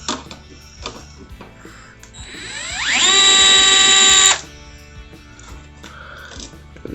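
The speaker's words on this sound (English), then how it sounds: "Now we'll go ahead and pull all the screws out of our servo." Power screwdriver whirring as it backs screws out of an RC airplane servo, one loud sustained run of about a second and a half, rising in pitch then holding steady, close up.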